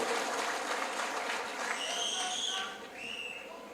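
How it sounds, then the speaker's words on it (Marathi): A political rally crowd claps in a broad, dense patter that fades toward the end, while faint high tones drift over it. "जोरदार टाळ्या वाजून आपण त्यांचं अभिनंदन करूया"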